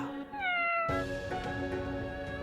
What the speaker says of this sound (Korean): 어디서 나왔는지 고양이 한 마리가 앙칼지게 우는 거야.